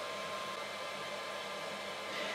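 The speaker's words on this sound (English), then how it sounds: "the first thing we notice is a very loud fan underneath the printer here" A loud cooling fan underneath a FlashForge Creator X 3D printer, a steady broadband whirring hum with a faint tonal whine, constant and close with no talk.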